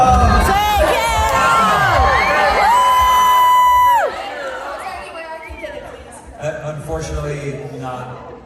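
Crowd at a concert at the House of Blues in Myrtle Beach, cheering and whooping loudly with shouts and chatter, fading after a few seconds into scattered murmuring and voices.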